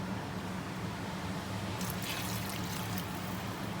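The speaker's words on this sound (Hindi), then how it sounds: "वो हमने पानी ऐड किया उसके अंदर।" Water is poured into a pot of chicken chana daal cooking on a high flame, a soft continuous splashing pour over a low background hum, quiet and without talk.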